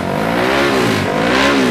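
A tuned Tabanan race car engine warms up with loud, close revving that swells and dips in two or three rising pulls, heard alone without voices.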